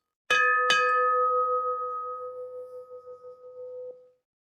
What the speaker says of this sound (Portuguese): há um sino, então obviamente precisamos tocar esse sino